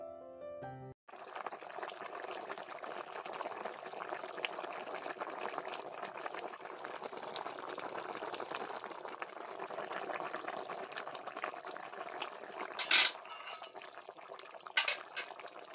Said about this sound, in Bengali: ঝোলটাকে এবার ভালো করে ফুটিয়ে নেব।